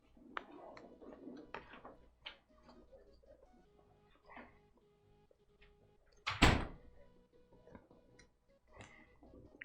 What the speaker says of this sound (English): Oh, that door's opening.